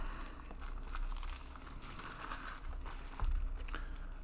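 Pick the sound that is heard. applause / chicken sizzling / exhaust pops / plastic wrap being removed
plastic wrap being removed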